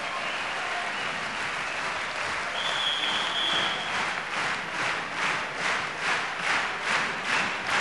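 A crowd applauds at an indoor men's volleyball match in a Belgian tournament hall, the clapping steady and broad at first, then swelling into rhythmic, pulsing rounds of applause with a brief whistle in the middle.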